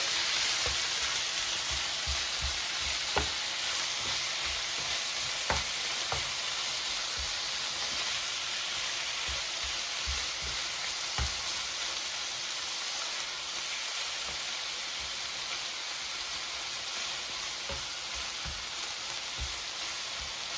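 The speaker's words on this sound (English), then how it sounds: "the pan is fully heated, the oil is sizzling" Continuous loud sizzling of chicken liver frying in hot oil in a pan, with occasional pops and crackles and no talking.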